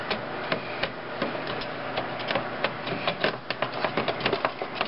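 Plastic timing belt cover on a GM 2.2L engine being worked loose and pulled free, giving a run of close, sharp knocks, clicks and rattles in uneven bursts throughout.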